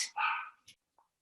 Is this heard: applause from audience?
no